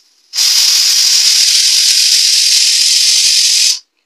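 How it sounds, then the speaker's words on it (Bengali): A pressure cooker of meat curry over a high flame lets off one whistle: a loud, close, steady jet of hissing steam that bursts on abruptly, holds for about three and a half seconds, then cuts off sharply. "প্রেসার কুকারের ঢাকনাটা দিয়ে একটা সিটি দিয়ে নেব"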